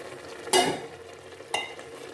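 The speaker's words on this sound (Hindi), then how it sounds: "अब इसकी हम अच्छे से भुनाई कर लेते हैं, 3 से 4 मिनट अच्छे से कर लेते हैं इसकी भुनाई।" Beef, potatoes and turnips sautéing in cooking oil give a low sizzle, broken by two distinct stirring scrapes about a second apart, close and fairly quiet with no talking.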